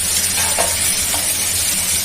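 Eggplant slices frying in hot oil in a pan produce a dense, loud, continuous sizzle at close range, with faint stirring scrapes and no voices.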